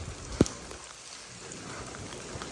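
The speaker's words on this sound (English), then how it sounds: "Oh yeah, it's starting to rain again now." Rain falling during Hurricane Milton, a steady soft hiss of drops on surfaces outdoors with one sharp close tap near the start.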